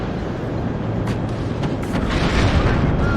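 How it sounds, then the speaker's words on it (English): Deep, rumbling booms roll on continuously with sharper bursts popping through, a dense and steady barrage of explosions in the game WARNO at moderate loudness. "you can see the explosions coming in there"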